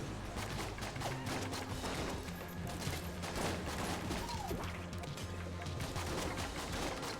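Dense, continuous gunfire from rubber bullet cannons in the twin-stick shooter Enter the Gungeon, rapid bursts and impacts layered over loud game music, with no pause for the whole stretch.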